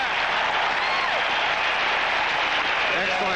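A large stadium crowd at a 1979 Steelers versus Chargers football game roars and applauds in a dense, steady wash of cheering, with a commentator talking over it.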